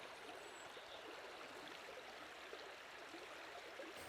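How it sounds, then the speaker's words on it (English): A small stream runs through a little forest ravine at a wild overnight campsite, giving a soft, steady trickle and babble that never stops. It stays faint and fairly distant, with no one talking. "Wonderful location in this little ravine. Nice stream going through."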